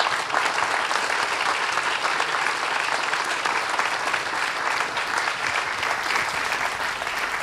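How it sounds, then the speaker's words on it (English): Steady, dense audience applause at a film-industry conversation event, continuous and even throughout with no talk over it. "Ask an applause for Deborah Hill."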